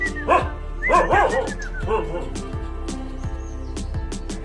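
Caravan hounds, an Indian sighthound breed, bark repeatedly nearby in quick yips and bow-wows, with birds chirping and a person talking in the background.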